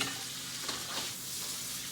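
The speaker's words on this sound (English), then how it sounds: "We're just going to let that simmer and shake in there." Frozen fish simmering and sizzling in a hot pan for fish tacos, a steady, even frying hiss with a soft bubbling texture, close and moderately quiet, no voices.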